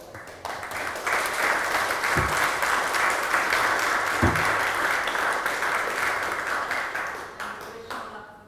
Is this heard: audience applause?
yes